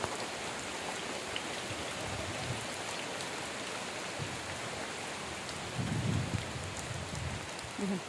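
Steady rain falling over waterlogged, flooded farm fields, a broad continuous hiss at moderate distance with a few low rumbles rising briefly near the end.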